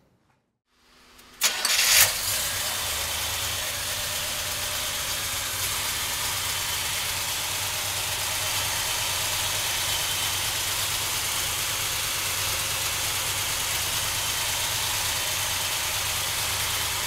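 A 1970 Chevrolet Chevelle engine cranks and catches after a moment of silence, then settles into a steady, rumbling idle that continues without a break, close by.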